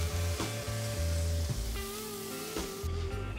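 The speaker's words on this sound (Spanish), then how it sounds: "vamos a ir a pasarle la última vinagreta de ajo perejil a nuestros langostinos" Garlic and parsley vinaigrette sizzles steadily as it hits prawns on a hot seafood griddle, with a dense, crackling hiss broken by light clinks of a utensil.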